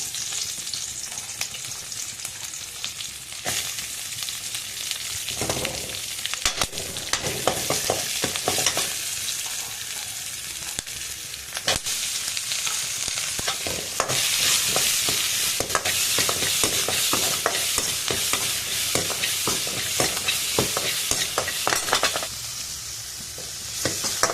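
Garlic, onion and tomato fry in hot oil with a loud, ongoing sizzle, broken by repeated scraping and stirring clatter of a spoon in the pan, swelling louder in the middle.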